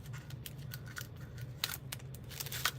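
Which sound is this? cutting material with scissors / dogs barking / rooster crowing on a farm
cutting material with scissors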